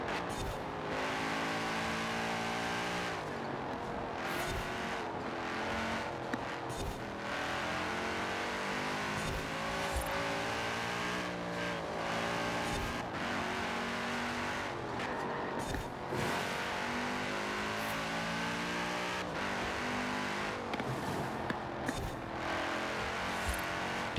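Lamborghini Sesto Elemento racing in Forza Horizon 4, its engine screaming continuously through repeated upshifts and downshifts, revs climbing and dropping through corners, loud and close the whole way with no talking.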